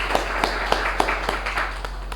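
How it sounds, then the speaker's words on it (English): A small meeting audience gives a short round of applause: a handful of sparse, fairly regular claps over a steady background hum. "Let's give a round of applause to our side."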